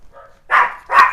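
Neighbours' dogs bark outside: a faint whine, then two loud, sharp barks in quick succession.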